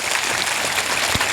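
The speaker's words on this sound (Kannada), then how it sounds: "ಅವರೆಲ್ಲರ ಸಲುವಾಗಿ ತಾವೊಂದು ಸಾರಿ ಚಪ್ಪಾಳೆಯನ್ನು ತಟ್ಟಬೇಕು." Audience applause at a Kannada spiritual discourse, a steady dense wash of clapping filling the whole short moment with no talk over it.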